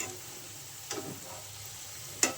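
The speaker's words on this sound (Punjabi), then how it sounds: "ਹੁਣ ਆਪਾਂ ਇਹਨਾਂ ਨੂੰ ਵੱਧ ਗੈਸ ਕਰਤਾ ਤੇ ਵੱਧ ਗੈਸ ਤੇ ਫਰਾਈ ਕਰਾਂਗੇ" Cauliflower stalks fry on a high gas flame with a soft, steady sizzle broken by two brief spatula scrapes against the pan.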